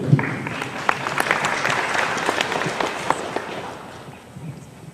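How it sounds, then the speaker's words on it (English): Scattered applause from a convention audience, uneven claps rising and thinning over a few seconds rather than a full ovation, with a brief voice near the start. "That was such a polite smattering of applause."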